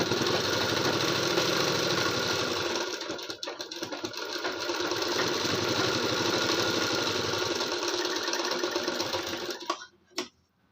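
A sewing machine runs a long continuous stitch along a blouse button strip, a close, loud, steady mechanical whir that slows and stops near the end, with no talking.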